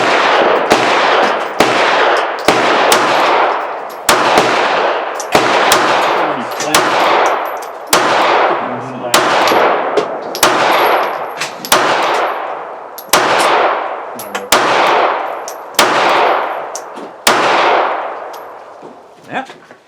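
A Ruger LCP MAX .380 ACP pistol fires at an outdoor range, emptying a 12-round magazine in sharp, loud, evenly spaced reports about a second and a half apart, each ringing off with a metallic clang.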